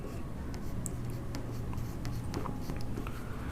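Chalk or marker scratching on a board while a ninth-grade algebra equation is worked out, a steady run of close, faint strokes and taps with a low hum underneath.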